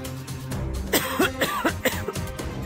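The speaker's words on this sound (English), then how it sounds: "I just coughed off blood" Several sharp coughs in quick succession from a cartoon child character, close and loud, with throat-clearing sounds between bursts over faint background noise.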